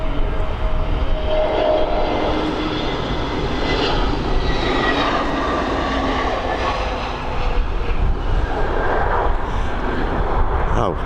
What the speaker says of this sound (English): this A320neo just about to touch down after its flight over from London Heathrow